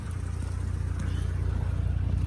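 An Audi B9 with an ECS Tuning X-pipe exhaust idles outdoors at night just after starting, a steady deep low rumble pulsing evenly and fairly quiet.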